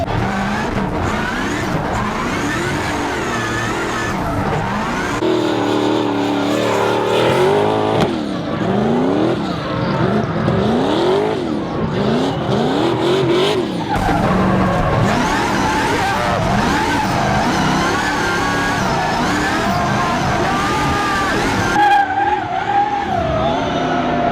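A 1,200-horsepower Nissan R35 GT-R drives hard, its engine revving and rising through gears with squealing, skidding tires, loud and close for the whole stretch with little pause.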